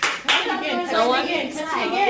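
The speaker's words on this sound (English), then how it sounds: "Round of applause for Elton." A round of applause from a middle school knitting club classroom: brisk, steady clapping from several pairs of hands throughout, mixed with children's voices talking over it.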